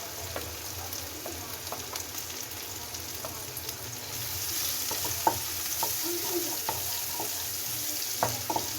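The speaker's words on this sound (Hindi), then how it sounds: "ऑयल हो चुका है तो बस मैं अपनी वेजिटेबल्स डालती हूँ।" Carrots and other vegetables fry in hot oil in a home kitchen, giving a steady close sizzle with scattered crackles and occasional stirring scrapes that grow slightly louder midway, with no talking.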